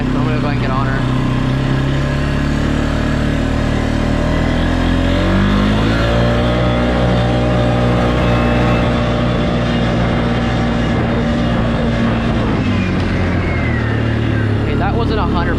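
A new Can-Am off-road vehicle revs and accelerates up a hill at night, its engine note loud and close, rising and shifting in pitch as the throttle opens, with brief talk near the start and end.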